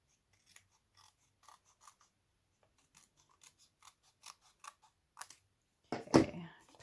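Scissors snip through a card piece for a handmade Grinch Christmas card, a run of short crisp cuts spaced about half a second apart, close and quiet, ending in a louder final snip.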